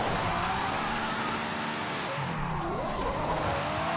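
A Ferrari engine in the video game Forza Horizon 5 roars loud and high-revving continuously, its pitch rising and dipping as it shifts, with a brief tire squeal in the middle.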